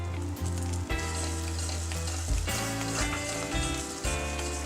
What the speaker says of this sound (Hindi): बेसन को थोड़ा चलाते रहिए जब तक कि ये हल्का ब्राउन ना हो जाए।